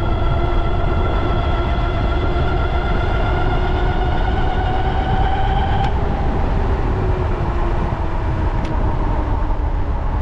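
An Ariel Rider Grizzly e-bike motor runs at full throttle up a hill, giving a continuous electric whine with gliding tones over loud, steady wind and road rumble.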